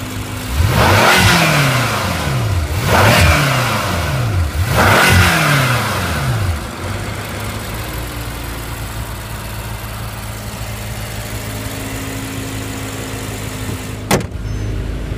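A BMW M5 F10 starts up and its exhaust barks through three sharp revs in a row, then settles into a steady low idle, with a single click near the end.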